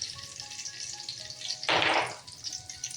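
A small onion hits a kadhai of hot oil, about a cup of it, and a loud burst of frying hiss swells up at once, then settles back to a quieter bubble.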